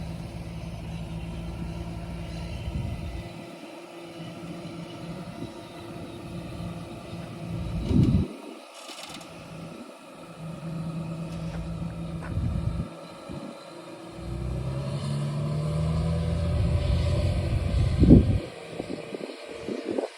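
A crop sprayer's engine drives steadily through a rapeseed field at around 22–24 km/h, giving a continuous low mechanical rumble that swells and dips, with a louder stretch toward the end.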